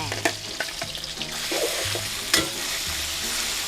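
Pork for Thai fried pork with sweet fish sauce stir-fries in oil over medium heat, giving a steady, close sizzle broken by spatula scrapes and clacks against the pan, with no voices.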